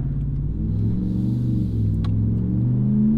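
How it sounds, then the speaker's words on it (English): A deep, steady exhaust drone from a Ram 1500 pickup with a bolt-on exhaust, loud and close, holding a low rumbling tone with slight shifts in pitch as it cruises. "Gives you a much cooler exhaust note."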